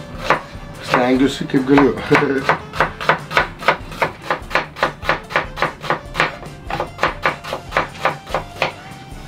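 A knife chops onions on a cutting board for stewed vegetables in a steady, quick rhythm of close, crisp strikes, with brief talking near the start.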